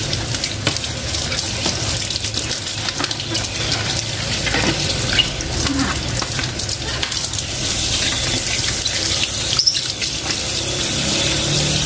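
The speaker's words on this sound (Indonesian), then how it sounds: "Kita buka keran airnya" A kitchen tap runs steadily while a Pure It Classic water purifier filter is rinsed under it, a continuous close splashing gush with no voices.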